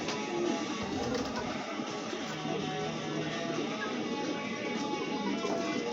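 Racing pigeons coo in a loft, a steady bed of soft overlapping calls and rustling filling the space at moderate level throughout, with no clear talk.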